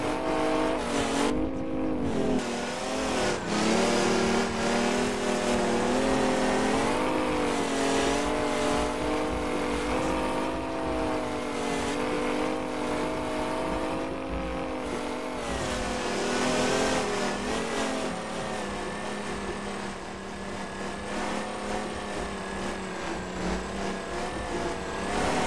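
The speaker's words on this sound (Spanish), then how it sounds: "Acá no voy a dejar de acelerar. Así se dañe, amiguito, así se dañe, hágale." A Chevrolet Kodiak truck engine in American Truck Simulator roars loudly and continuously, straining and revving while stuck climbing a steep muddy slope, with a steady high growl that rises and falls slightly.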